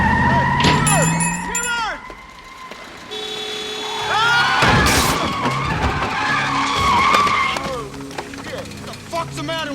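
In a film scene, car tires shriek in long screeching skids under engine noise, followed by a loud crunching collision with another car and more squealing, with shouted voices mixed in.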